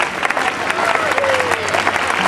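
An audience at a dove-release ceremony breaks into dense, steady applause that holds for the whole stretch, with a faint voice underneath.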